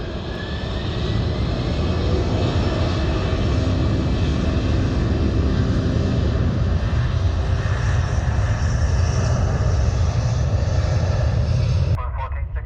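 A Delta airliner takes off from runway 10 left, its engines a loud, steady roar held close for about twelve seconds before cutting off abruptly.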